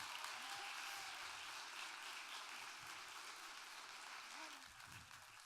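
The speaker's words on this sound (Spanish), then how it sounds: "¿Le damos un aplauso?" Audience applause for a journalist guest at a public talk, a steady moderate clapping from a seated crowd that gradually thins and fades near the end.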